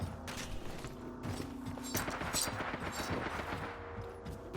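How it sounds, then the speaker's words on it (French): Gunfire in the Apex Legends video game, with rapid bursts of automatic shots and mechanical clicks rattling on steadily at low level, busy and overlapping throughout. "On me tire dessus."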